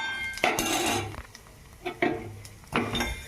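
Vermicelli and cashews roasting in a pan for jaggery semiya payasam, stirred with a metal utensil that scrapes and clinks against the pan in several short bursts, with quieter pauses between strokes.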